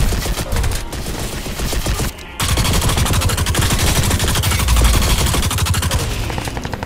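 Rapid automatic gunfire from a weapon in the shooter game Crysis 2, loud and dense, sustained bursts with a brief pause near the two-second mark, then continuing heavily to the end.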